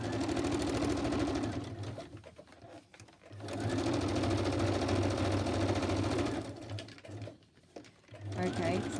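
A sewing machine stitches fabric scraps into an embellishment collage, whirring in two long continuous runs broken by short pauses, close and loud, with a voice talking over it.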